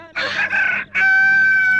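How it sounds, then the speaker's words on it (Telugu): A rooster crows once close by, a loud drawn-out call rising and then holding a sustained final note, with no other sounds around it. "అప్పుడే కోడి కూసిందా?"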